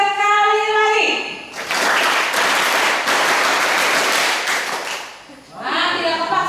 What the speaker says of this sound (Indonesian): Berarti tepuk tangan.